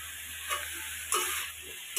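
Potatoes, spices and bay leaf sizzle and crackle in hot oil in a covered pan while being stirred and braised, a steady frying hiss with a few brief louder scrapes.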